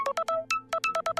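A phone ringtone for an incoming call plays alone as a clear melodic electronic tune, with repeated bright beeping notes in quick bursts and short gaps.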